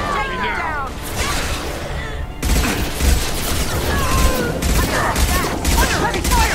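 Dense, rapid gunfire crackles through a firefight in the video game Mass Effect 2, bursts overlapping almost continuously with impacts and heavy low booms, while voices shout over the battle.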